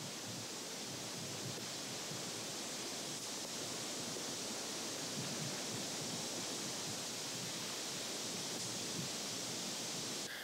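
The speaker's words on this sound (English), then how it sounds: "When the pond level is low, the lava pours down the steep falls." Lava pours down steep falls into a lava pond at Kīlauea, making a steady, dense roar and hiss that stays loud and unbroken from start to finish, with no voices.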